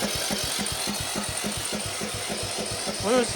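A 1953 Willys CJ3B engine cranking over and over in a fast, even chugging rhythm, struggling to catch but not running, heard close and loud, with a brief squealing rise at the very end.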